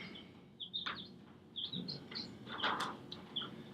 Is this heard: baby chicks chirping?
yes